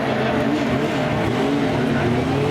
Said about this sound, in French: Le pilote de Belleville-sur-Vie avec le très joli coupé BMW.